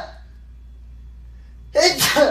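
A single sharp human sneeze bursts out near the mic after a quiet stretch, loud and brief, with a faint trace of voice just before.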